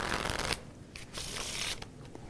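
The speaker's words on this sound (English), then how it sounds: "can you come and riffle shuffle these cards" At a live magic show, playing cards are riffle shuffled in two quick bursts of rapid fluttering clicks, close by, with a brief pause between them and no voices.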